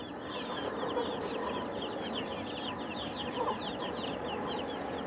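A flock of twelve-day-old broiler chickens fills a farm shed with a dense, unbroken chorus of high chirps and soft clucks, steady and fairly close.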